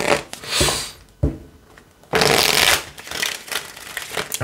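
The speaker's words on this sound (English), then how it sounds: "One last shuffle." Tarot cards being shuffled by hand, in several bursts of riffling and sliding with short pauses between, close and fairly loud, with no talking.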